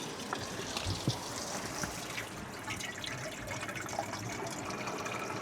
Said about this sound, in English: I'll go over to this one though, because I did notice it was flowing a bit better.